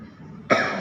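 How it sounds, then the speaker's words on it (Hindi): A single sharp cough breaks in after a quiet stretch of low room tone, close and loud. "कौन खांस रहा है?"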